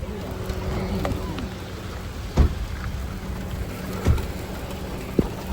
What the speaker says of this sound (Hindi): चलो तेज से बारिश होने लगी, भीग भी गए